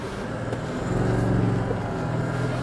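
4WD vehicle driving down a large Australian sand dune, its engine a low, close rumble that swells briefly mid-way and then holds steady, with no voices heard.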